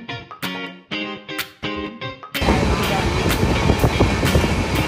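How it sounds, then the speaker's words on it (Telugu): Train journey in Andhra Pradesh: a brief stretch of music with choppy, distorted breaks gives way to the loud, continuous rush and rumble of a moving train with faint rhythmic clicks. "enjoy the train journey with us"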